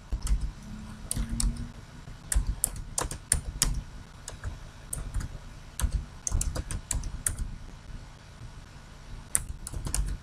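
Fingers type an email address on a computer keyboard, quick irregular clusters of crisp key clicks with short pauses between them, close and clear with no talk.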